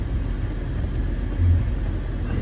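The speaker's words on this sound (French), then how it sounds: "Il y a quelques camions qui passent." Trucks pass on a rough, badly maintained road, heard as a steady low rumble of heavy engines and tyre noise with a brief swell of louder passing traffic midway.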